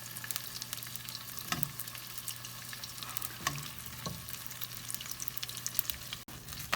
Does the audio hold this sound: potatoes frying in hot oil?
yes